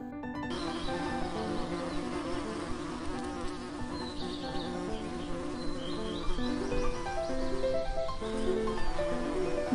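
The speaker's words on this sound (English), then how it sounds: "This is a bee." Bees buzz loudly and continuously, a dense droning hum close by with shifting pitch, no voices present.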